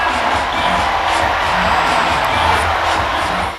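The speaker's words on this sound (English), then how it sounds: "Enjoying wild cheers from the elated crowd" Wild cheering and roaring from an elated crowd at a dance performance, a dense, loud wash of voices sustained without pause across the whole moment.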